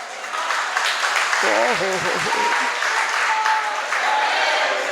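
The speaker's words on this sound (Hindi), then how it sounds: "ये ताली किसके लिए बजा रहे हैं आप लोग?" Lecture audience at a religious discourse in Aligarh claps steadily in dense, sustained applause, with a voice speaking briefly over it midway.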